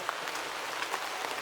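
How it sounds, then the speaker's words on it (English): Steady rain falling at a Pro Superbike race at Road Atlanta, Georgia, a dense even hiss of drops heard alone at moderate level. "It's raining."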